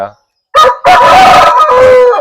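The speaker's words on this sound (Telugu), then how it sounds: "ఈ పుంజు గురించి చెప్పిన వరభాయ్" A rooster crows loudly and close by, one long drawn-out call with a brief break partway through, after a moment of near silence. The rooster is a Coimbatore Salem breed.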